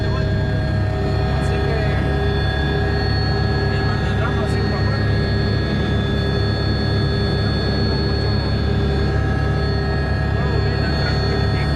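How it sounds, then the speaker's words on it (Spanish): A helicopter's steady engine and rotor drone fills the cabin continuously at close range during an offshore flight, with someone talking over it throughout. "Y el helicóptero."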